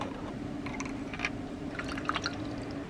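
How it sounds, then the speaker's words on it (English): A small paintbrush wets a watercolour pencil sketch, giving faint soft drips and wet squishing dabs at close range over a steady low background hum, with no talking. "so I'm just going to add some water next."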